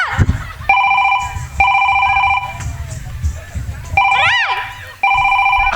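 A phone rings in repeated electronic bursts with short pauses between them, loud and close, while low background voices and movement continue underneath.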